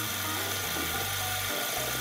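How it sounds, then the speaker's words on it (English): A home metal lathe cuts a small centering dimple into a workpiece before drilling, giving a steady mechanical whir with a low rumbling hum that shifts in pitch a few times, fairly close and with no talking. "I'm gonna carve myself a little dimple, and that'll kind of help me orient my drill bit"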